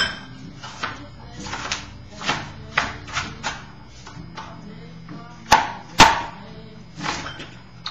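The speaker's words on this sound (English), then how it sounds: "So as I'm chopping, I'm still chopping" Knife chopping red onion on a board for a crock pot stew, a series of sharp separate taps spaced irregularly, with two louder knocks near the end.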